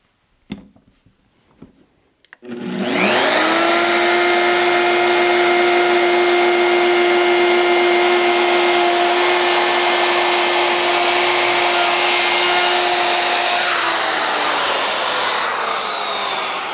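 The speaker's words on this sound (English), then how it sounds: "we're doing this with a hand router, so it's always left to right, and allow the router to do its thing." A hand router fitted with a Freud bit spins up loudly after a few faint clicks. It then holds a steady, high, roaring whine for over ten seconds while cutting a groove from left to right, and the pitch drifts slightly near the end.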